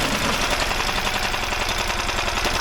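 An outboard boat motor running steadily in forward gear, a loud continuous engine drone with a fast even throb that stays close and unbroken throughout, with no speech.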